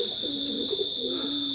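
Teddy pigeons coo in low, rolling calls, two or three close phrases over a steady high-pitched hum in the background.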